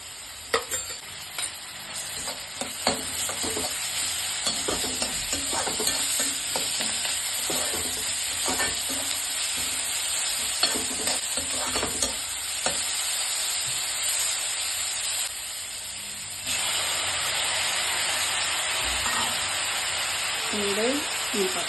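Ginger garlic paste sizzles and fries with onions in a pan for a roadside-style salna, with steady hissing and stirring scrapes throughout, fairly loud and close.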